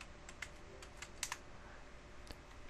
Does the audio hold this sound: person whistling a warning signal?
no